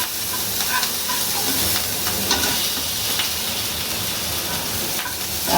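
Chopped garlic and chili fry in hot oil for corn manchurian while being stirred, a continuous close hissing sizzle with faint scraping stirs and no voices.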